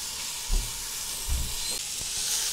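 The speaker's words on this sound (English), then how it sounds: "saute this for about 2 minutes or until it's golden brown" Onion and garlic sautéing in a pan, with a soft steady sizzle and hiss and a few low stirring knocks, close by with no voices.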